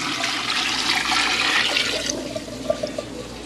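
Water poured into a pot of browned beef for caldo de res soup, a steady splashing gush close by that tapers off into a few trickles and drips.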